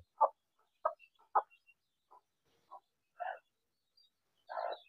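A hen tending newly hatched chicks gives short, separate clucks, a handful of quiet close calls spaced irregularly with silence between them.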